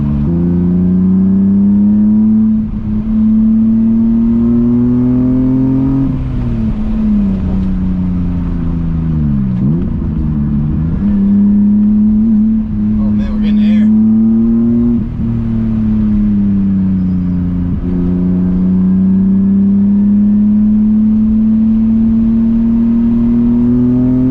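A BMW E30 fitted with an M50 engine drives along, its engine note rising and falling through gear changes and revs, steady and close throughout with no talking.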